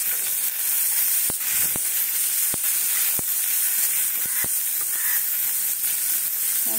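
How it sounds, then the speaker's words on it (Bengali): Onion frying in oil in a pan for chilli chicken, a continuous close sizzle with intermittent sharp clicks and stirring knocks. "পেঁয়াজটাকে আমি ভেজে নিচ্ছি"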